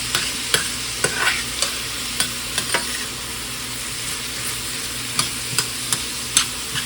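Onions and garlic frying in oil in a pan, a steady close sizzle with repeated sharp scrapes and taps of a utensil stirring them, no voices.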